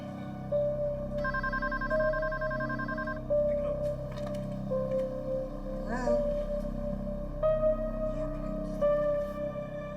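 Telephone ringing in a house during a hostage situation, repeated electronic trilling rings in steady bursts over a low background hum, with voices audible faintly underneath.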